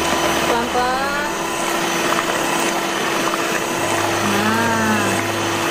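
An electric mixer on low speed hums steadily through taro cake batter for kue mangkok, a constant close whir with someone speaking over it.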